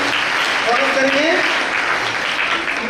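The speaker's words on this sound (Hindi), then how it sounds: "एक बार जोरदार ताली द्वारा हम स्वागत करेंगे" Applause from an audience at a community gathering, a dense steady wash of clapping lasting throughout, with a few voices faintly audible under it.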